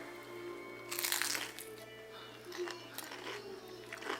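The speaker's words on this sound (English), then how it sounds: "Got good crunch." Someone bites into a crunchy fried cheeseburger spring roll, a sharp crackling crunch near the mic followed by a few softer chewing crunches, quiet room otherwise.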